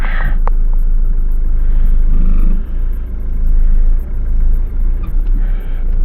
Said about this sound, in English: now maybe you can hear that. That's the handbrake dragging